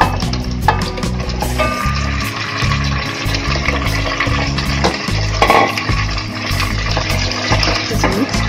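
Chicken pieces dropped into a pan of lightly fried onions for white chicken pulao, a loud, dense sizzle with clattering stirs and pan knocks throughout, a faint voice now and then.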